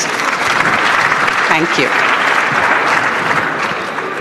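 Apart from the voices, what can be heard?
audience applause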